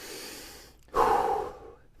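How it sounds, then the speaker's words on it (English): A single deep breath drawn while holding a plank in a workout warm-up: quiet airflow, then a strong close inhale-exhale rush lasting about half a second, with no talk. "taking some big, deep breaths"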